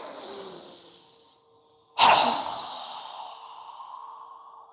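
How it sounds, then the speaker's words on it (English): A single strong exhale blown out through the mouth during a yoga breathing exercise, arriving suddenly and loud after a quieter breath, then trailing off in a long breathy tail. "exhale with a strong breath as we lower our arms down, exhaling through our mouth"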